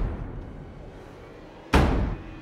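A loud, sudden thud strikes a door in a horror film, one sharp heavy impact arriving alone after a stretch of low, tense ambience.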